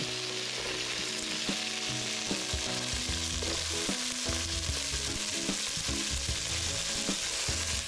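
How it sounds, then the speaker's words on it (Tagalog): Kuray sautéed with onion in a hot pan, a loud, continuous close sizzle with rhythmic scraping and stirring throughout, no speech. "At syempre, ilagay na rin natin at igisa itong ating mga kuray."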